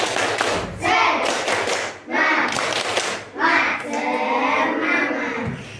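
Class repeating the 'tepuk semangat' chant, children clapping in rhythmic bursts and chanting together, loud and close with thumping hand sounds.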